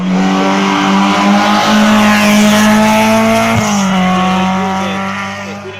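Simca race car on a hill climb course at Quillan roars loudly past close by, its engine note holding high and steady, then dropping in pitch as it moves away and fades.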